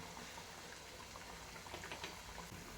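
Dal vadas made from chana dal frying in oil over a medium gas flame, giving a steady, close bubbling sizzle with scattered tiny pops throughout and no voices.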